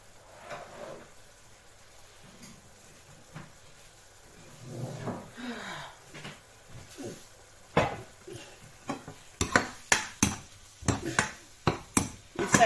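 Minced pork for larb is stirred and tossed in a pan with a faint sizzle, with scraping and clanking of a utensil against the pan that grows busier and louder in the second half.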